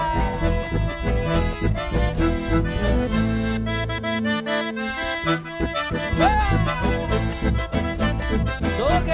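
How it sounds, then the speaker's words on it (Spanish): Chamamé, the litoral folk music, plays live at a festival for the Virgen del Valle. The band is loud and dense throughout, with steady rhythmic accompaniment and a short sparse break in the middle. "Le seguimos poniendo música de litoral."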